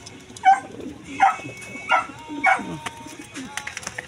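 A pigeon or dove calls in short repeated bursts, about four clear coos spaced under a second apart, close by over a steady hum and light background clatter.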